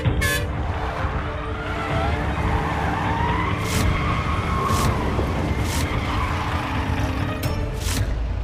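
A car driven erratically skids with a screech of tires, and short horn toots cut in along with a steady engine and road noise. Everything sounds fairly close and loud.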